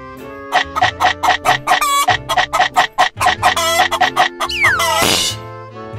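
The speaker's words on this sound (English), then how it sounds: "Chicken!" Chicken clucks and rooster crows sound in a loud, rapid series of rhythmic calls, with a long crow near the end, up close and with no talking.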